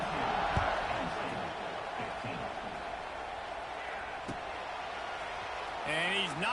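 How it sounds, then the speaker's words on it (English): Steady crowd murmur filling a college football stadium at Texas A&M versus Penn State after a score, a broad distant roar under continuous play-by-play commentary. "this crowd is buzzing after that last score"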